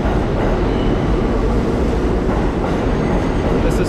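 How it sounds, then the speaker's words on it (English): An older New York City subway Z train rumbles loudly past at close range through Chambers Street station, a steady roar of wheels and carriages with faint clacking. "There's a northbound Z train making its way to Canal Street and to Brooklyn."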